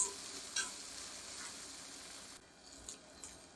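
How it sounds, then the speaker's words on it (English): Onions cooking slowly in a pan until tender for a Southern dish, giving a low, steady sizzle with a few faint utensil clicks, fairly quiet and with no voices. "I'm going to cook these until these onions are nice and tender."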